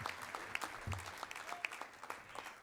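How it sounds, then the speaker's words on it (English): A breakfast audience applauds its sponsor, Kentucky Wesleyan College: scattered, moderate clapping from a group, fairly even with a few sharper individual claps standing out. "Look, Fran, you lead that applause."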